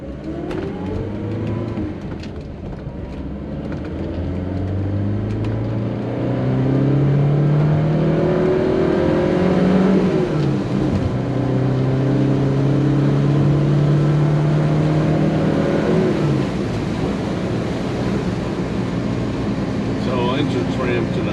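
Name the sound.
1974 BMW 2002 Tii engine accelerating while driving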